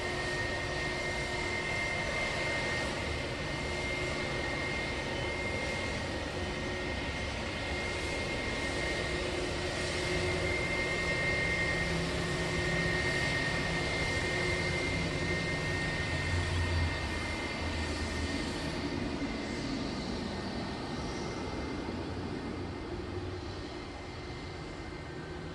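A Jetstar airliner taxis past at Sydney Airport, its engines giving a continuous, fairly distant roar with a high whine that stays steady and swells slightly midway before easing off.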